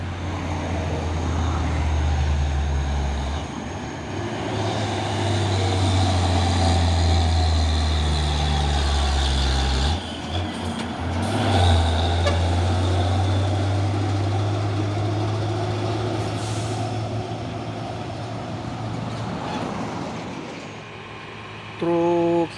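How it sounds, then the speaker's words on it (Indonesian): A Hino Jumper truck drives past on a roadside, its deep engine rumble loud and steady for most of the span, with a brief dip midway and surrounding traffic noise. "Masuk lagi truk Hino Jumper."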